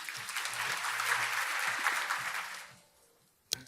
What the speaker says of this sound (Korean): 큰 박수로 맞이해 주시길 바랍니다.